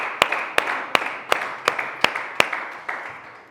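Church congregation clapping together in a steady, even rhythm, about eight sharp claps with a slight echo, fading toward the end.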